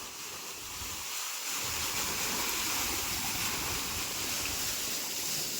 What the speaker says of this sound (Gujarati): વાગ્યું છે 10:30 જેવું અને કરી દીધી છે મોટર ચાલુ.